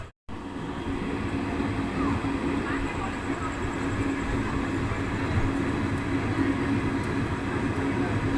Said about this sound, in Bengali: নিমতিতা থেকে আমাদের ট্রেন ছেড়ে দিল